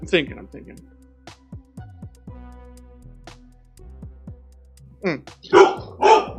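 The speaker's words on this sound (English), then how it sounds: "Sorry about the dog bark." A dog barks several times in a home, loud sharp barks near the end following quieter computer clicks and a brief spoken remark.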